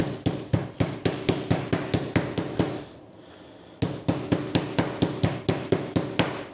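Chicken for shawarma kebabs is pounded flat with rapid, evenly spaced hard thumps, close and loud, in two runs split by a brief pause of about a second.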